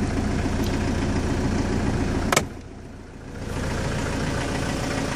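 A Ford Transit van with a governor fitted idles close by in a steady low rumble, briefly interrupted by a sharp click and a short dip before the even running resumes.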